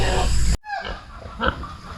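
A neighbour's boar grunts and squeals on a farm, loud and close in a short burst after an abrupt cut, with a fainter squeal following.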